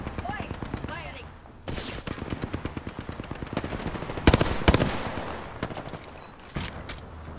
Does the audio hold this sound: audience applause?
no